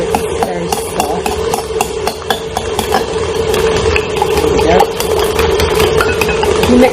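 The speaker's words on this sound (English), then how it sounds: "I'm just going to whisk all the eggs together now so it's very soft." Eggs are whisked together for a chocolate Victoria sponge: rapid ticking beater taps ride over a steady whirring drone that grows slightly louder toward the end.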